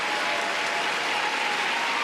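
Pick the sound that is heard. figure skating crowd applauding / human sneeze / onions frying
figure skating crowd applauding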